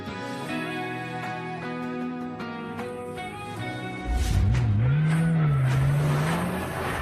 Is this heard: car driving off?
yes